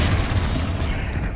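A blasting-spell explosion in the Hogwarts Legacy video game: a single dense, loud boom with a rumbling tail that fills the short moment, heard alone.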